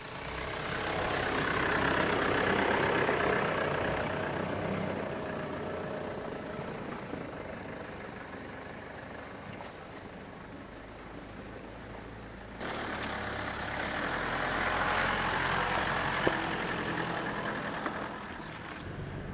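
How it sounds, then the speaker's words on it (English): Truck engine rumbles steadily as the truck drives over a newly built farm crossing, a broad, moderately distant drone that swells and fades with a brief break midway. "the truck just flew through there"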